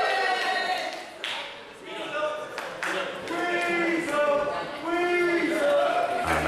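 Wrestling crowd at a UK show cheering and shouting, a loud swelling roar with ragged voices rising and falling, over a commentator talking close to the mic.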